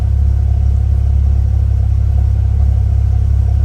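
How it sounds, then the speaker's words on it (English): A Porsche engine idles close by with a steady, deep, even rumble that holds constant throughout, with no voices. "I'm just gonna let it idle here for a little bit,"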